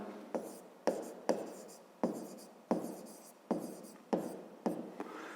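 A pen writes by hand on paper in a quiet room, a soft scratching in a steady series of short strokes, each starting with a light tap.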